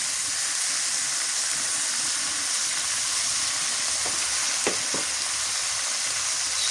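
Meat frying in a pan with garlic paste for a spicy meat khichuri gives a steady, loud, close sizzle, with a few brief clinks near the end and no talking.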